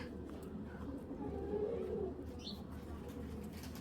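An old-breed male high-flying Giribaz pigeon gives a soft, low cooing, faint and close, against quiet background sound.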